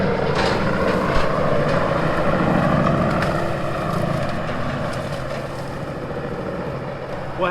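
A 1,000 horsepower grinder shreds old almond orchard trees on a work site, a loud, continuous roar of churning machinery with crunching wood, steady throughout and slightly easing toward the end.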